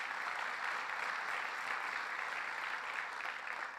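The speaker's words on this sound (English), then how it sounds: "Let's give him a round of applause." Dense, steady applause from an audience at a governor's funding announcement for Cayuga and Oswego counties, loud and sustained throughout with no voices above it.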